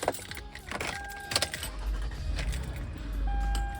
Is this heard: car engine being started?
yes